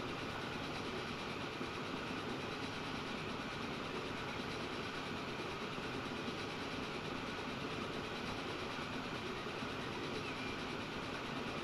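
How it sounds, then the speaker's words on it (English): A train rolls past in the Transport Fever 2 video game as a steady, dense rumble with rail noise that holds evenly throughout, with no pauses and no talking. "there's a train going off to another location there."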